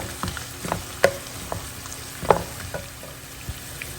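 Onions frying in oil in a home kitchen pan with greens added, a soft steady sizzle with a few sharp stirring clicks and clatters, close and moderately loud, no voices.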